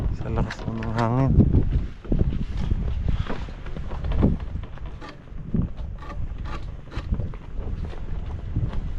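Strong wind buffets a microphone on a boat, a rough, gusty rumble that rises and falls throughout, with people speaking over it and a few knocks and thumps.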